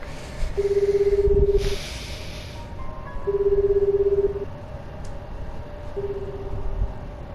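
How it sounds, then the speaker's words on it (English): Cell phone number being dialed in the video game 428 Shibuya Scramble: three steady electronic dial tones, each held about a second with pauses between, over a soft background music bed. "He dialed Tano's number."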